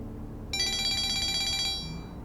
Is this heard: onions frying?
no